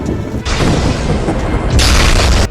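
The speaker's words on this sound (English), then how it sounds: "a thunderbolt just struck a house and lit up the sky like fireworks" A thunderbolt strikes a house during a storm, producing loud, heavy booming crashes: one burst, then a second even stronger rumbling blast close by.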